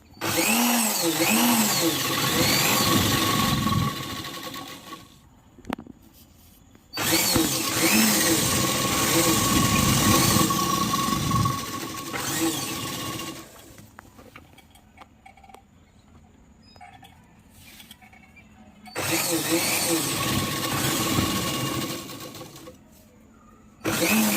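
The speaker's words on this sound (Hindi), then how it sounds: "पहले उसको भी कमर पे जॉइंट करते हुए सिलाई शुरू करेंगे" A sewing machine runs straight stitching along a petticoat's waist seam in three long bursts with short pauses between, loud and close, with faint low talk in the quieter gaps.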